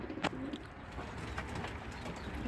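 Red Anabir pigeons, a male among them, coo softly in a loft. Low, short coos sound close over a steady background hum, with no voices.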